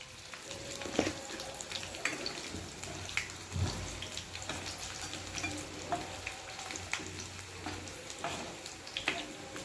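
Mustard seeds, chana dal and dried red chillies crackle and sizzle in hot oil, a steady close frying hiss with scattered small pops and the odd stir.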